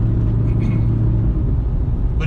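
A Saleen car with reworked suspension accelerates on a street, its engine a loud, close, steady low rumble throughout.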